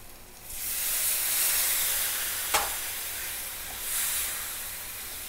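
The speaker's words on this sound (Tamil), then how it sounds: "அந்த 1/2 கப்பு தேங்காய் பாலை இதில் சேருங்க." Half a cup of coconut milk pours into a hot pan for Kerala-style meen polichadu, setting off a loud, close rush of sizzling steam that fades, with a sharp click midway and a brief second surge.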